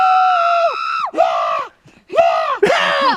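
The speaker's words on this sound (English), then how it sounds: "I want you to scream as loud as you can" A group screams loudly at the top of their lungs inside the Bighorn mine, two long sustained bursts of shrieking separated by a brief near-silent gap, ringing with echo.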